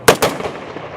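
An honor guard fires a rifle volley at a Veterans Day ceremony in Winthrop: two sharp, loud, nearly simultaneous cracks close together, followed by a short fading echo.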